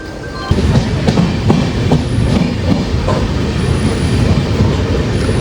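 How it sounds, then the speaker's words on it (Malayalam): A Charlapalli–Thiruvananthapuram Central Amrit Bharat Express, with 2025-built coaches, rolls loudly and close past a platform, a steady rumble with repeated clickety-clack wheel beats and no talk. "അപ്പുറം വന്ന് നിൽക്കുന്നത് ചർലപ്പള്ളി തിരുവനന്തപുരം സെൻട്രൽ അമൃത് ഭാരത് എക്സ്പ്രസ് ആണ്"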